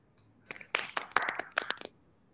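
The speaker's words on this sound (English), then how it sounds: "give a clap for Azadeh for giving such a nice talk" An online audience unmutes to applaud after a physics talk, giving a short, scattered burst of sharp claps that sounds thin, compressed and close-miked.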